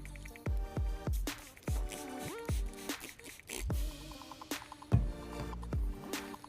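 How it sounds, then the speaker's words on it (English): Water is spritzed from a hand spray bottle onto a ketchup stain in a quick series of about a dozen short, close squirts and trigger clicks, quiet and uneven in rhythm, with no talking. "And then we merely spray it with a little bit of water, if our sprayer's working."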